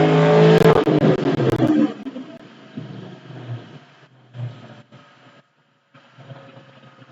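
A 2002 Corvette Z06 with cam, headers and intake on a dyno, loud engine roar at the start that quickly fades to a low idle rumble with faint intermittent sounds.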